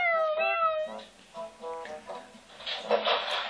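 A cat meows loudly and repeatedly at close range, a drawn-out wavering cry followed by shorter plaintive meows.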